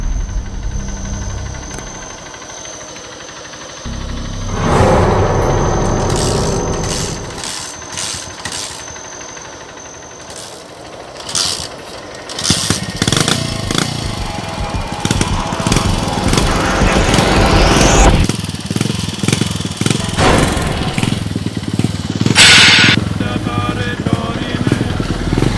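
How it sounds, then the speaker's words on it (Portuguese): A motorcycle is started and runs at night, first a quieter turnover and sputter, then a louder, rougher engine roar that continues with bursts of revving. "Liga a moto."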